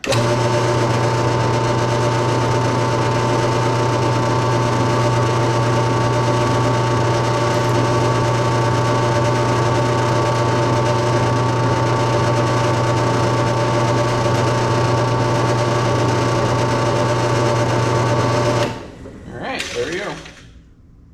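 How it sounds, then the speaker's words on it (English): A power drill whines steadily and loudly for about eighteen seconds while drilling out a misaligned hole during Hobie 16 catamaran assembly, then stops, followed by a brief rustle. "we need to drill that hole back out"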